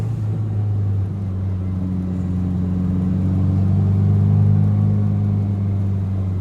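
Drift cars, a Toyota JZX90 and a Nissan R32, run at Circuit of the Americas with a loud, steady engine drone that swells gradually as they climb a hill, close by and continuous.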